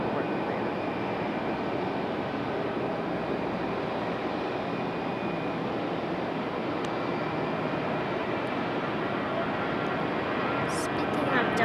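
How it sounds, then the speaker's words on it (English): An Airbus A319 jet airliner bound for Minneapolis moving at Raleigh-Durham airport, a steady mid-level engine drone with a faint whine running throughout, with talk heard over it. "transition over to our A319, getting a move on here"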